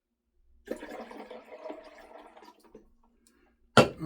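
About 16 ounces of water is poured into a cooking pot that already holds two small cups of peanuts, a steady splashing rush lasting roughly two seconds, then a brief pause before a sharp knock at the end.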